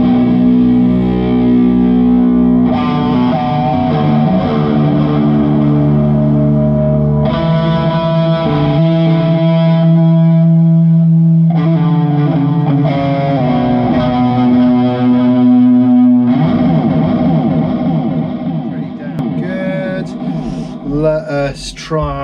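Electric guitar played through a heavy fuzzy afterburner effect, loud sustained chords and droning riffs with thick saturated tone, rising into busier distorted playing near the end, with no voices over it.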